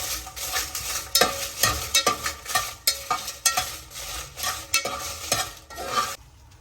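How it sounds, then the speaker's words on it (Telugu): Dried red chillies fry in hot oil in a pan for gongura pachadi, a continuous close sizzle broken by repeated sharp scraping strokes of a spoon stirring in an uneven rhythm, with no talk. "ఎండుమిరపకాయలు ఫ్రై అయిపోయినాయి."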